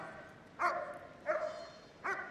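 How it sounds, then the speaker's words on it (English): A police dog barks three times at a bite pillow during a police dog unit display at Crufts 2013, the sharp barks evenly spaced and moderately loud against a quiet background. "So there we go, he's barking away."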